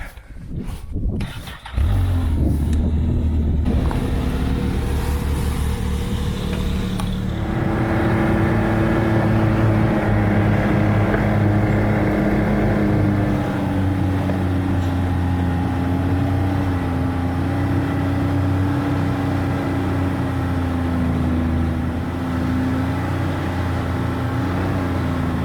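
A super wide track machine hauling a homemade logging sleigh starts up and drives uphill, its engine settling into a loud, steady drone with a sustained tonal whine and rising, wavering pitch, close and continuous with no talking.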